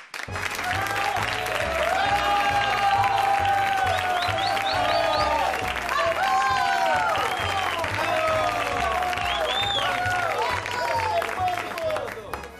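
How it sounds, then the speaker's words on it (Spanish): A studio audience at a television show breaks into sustained, loud applause welcoming a guest, mixed with some cheering and voices over a rhythmic low backing. "Y quiero eh, que recibáis con un fuerte aplauso a Onofre."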